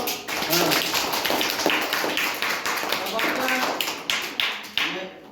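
A classroom of children claps together during a clay-modelling lesson with a clay fish, a steady burst of many hands that runs the whole time while a teacher talks over it.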